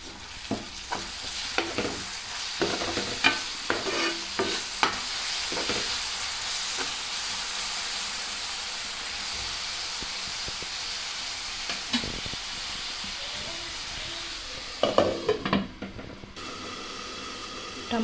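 Tomatoes and onions frying in a pan while being stirred, a continuous close sizzle broken by repeated scraping and clattering strokes of a spoon against the pan, busiest near the start and again near the end.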